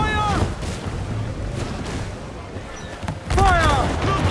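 Cannon fire in Assassin's Creed 4 Black Flag during a naval battle, heavy booming blasts rumbling continuously with shouted voices over the din.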